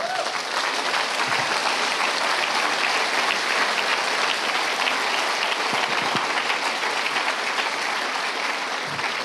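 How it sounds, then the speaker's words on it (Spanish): A church congregation claps for the Lord in a sustained, dense wash of applause that holds steady and loud from start to finish, with no speech over it. "Dale un aplauso al Señor."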